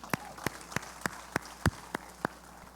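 A congregation in a church claps in unison, giving eight sharp, evenly spaced beats about a third of a second apart over a low quiet room hum.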